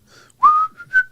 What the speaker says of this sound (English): here I am whistling in the studio